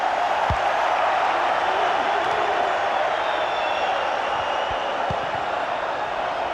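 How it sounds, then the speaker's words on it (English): Stadium crowd noise from a FIFA video game Champions League match between Getafe and Benfica, a steady loud roar and cheering that fills the background without a break. "Being egged on by the crowd."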